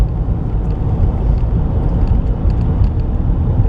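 Steady low road rumble and engine drone from a 2019 Chevy Trax driving slowly around the block, close and continuous with no talk.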